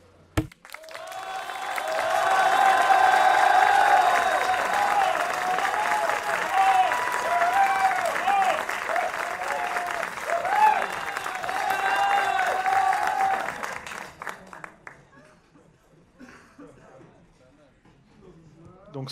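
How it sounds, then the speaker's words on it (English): Audience applause with cheering and whistles during the final round of an awards show, a loud sustained burst lasting about fourteen seconds before fading out. "73 on the applause meter."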